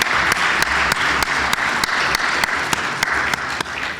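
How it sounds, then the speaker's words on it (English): An audience at an energy-future conference session applauds its presenters, a loud, dense round of clapping with sharp, regularly spaced claps standing out near the microphone. "let's give our presenters a round of applause"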